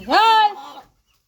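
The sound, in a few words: rooster clucking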